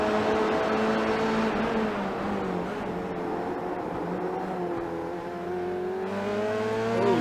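Formula 3 race cars crest the hill just past the start-finish line at Brands Hatch, engines whining steadily at high revs with shifting pitch as they sweep through, loud and continuous with no talk.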